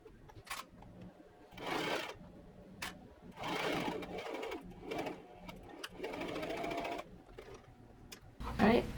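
Home sewing machine stitching half-inch shoulder seams on a flannel pinafore dress, running in several short bursts of whirring separated by pauses, close and moderately loud.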